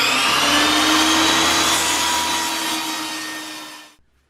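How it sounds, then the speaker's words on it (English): A table saw rips through leather to cut four-inch squares with a loud, close, high whining buzz that holds steady, then tapers off and cuts out abruptly. "I got my table saw set up here to cut 4 inches"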